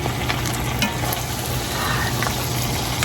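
Ground beef and squash frying in a pan, with a steady, close sizzle throughout and occasional light scrapes and clicks as the spatula stirs.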